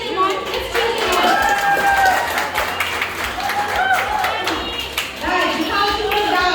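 A live crowd cheers and applauds contestants racing to finish sandwiches in a timed cooking contest, with steady clapping, whoops and shouting voices close by for several seconds.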